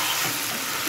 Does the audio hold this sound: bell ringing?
no